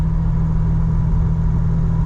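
A Jeep TJ with a custom exhaust idles steadily, giving a loud, constant low droning rumble with no change in revs.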